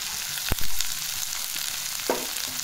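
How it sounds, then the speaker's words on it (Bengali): Carrots, beans and capsicum frying in a wok, a continuous close sizzle broken by a sharp spatula clack and a couple of quieter stirring scrapes. "এগুলো একটু ভালো করে ভেজে নেব।"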